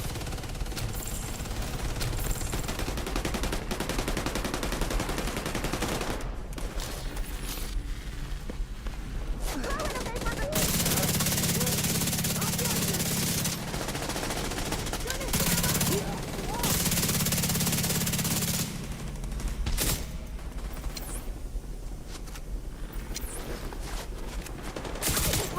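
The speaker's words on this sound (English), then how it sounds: "the double wielding LMGs." Dual-wielded light machine guns in The Division open up in long, dense bursts of automatic fire, loud and close, broken by short lulls and clashing with other game effects.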